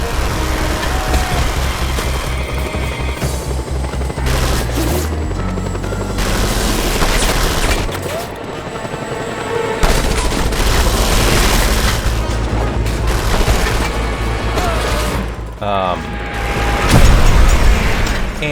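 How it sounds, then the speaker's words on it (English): Repeated booming explosions and blasts from Just Cause 2 gameplay, rocket-like in character, loud and dense throughout with a helicopter-like drone and scattered gunfire mixed in. "Why does it sound like they're rockets?"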